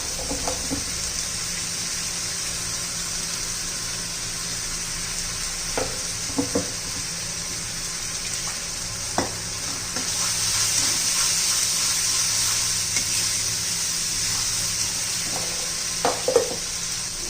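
Spice masala for an elephant foot yam curry frying in oil, a steady soft sizzle throughout with occasional spoon scrapes and taps, close and moderately loud, no talking.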